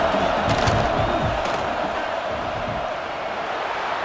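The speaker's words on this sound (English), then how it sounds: "This crowd trying to do its part to get inside the kicker's head." Steady roar of a stadium crowd in College Football 26, fans making noise before a field goal try in a Michigan Wolverines dynasty game; dense, continuous din with a few louder swells near the start.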